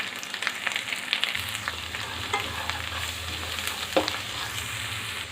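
Ginger paste frying in a pan with turmeric, stirred steadily so a continuous close sizzle runs throughout, with light scrapes and clicks of the spoon against the pan and no talking.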